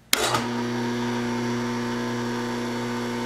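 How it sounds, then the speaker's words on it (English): A half horsepower electric motor clicks on with a sharp transient, then settles into a steady, loud hum with a strong low tonal drone that runs evenly to the end, with no talk. "we're going to be running the half horsepower motor, and we're going to go ahead and turn that on right now"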